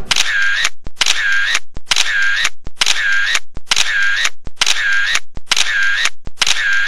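Camera shutter firing repeatedly at a selfie zone during a wedding reception, eight evenly spaced bright clicks with brief sharp taps between them, loud and close with no talking.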